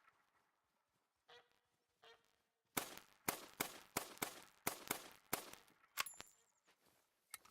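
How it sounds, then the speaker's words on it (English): Waterfowl honk and quack in a rapid run of loud, sharp calls, starting faintly and then bursting into a dense close series outdoors. "Stupid ducks."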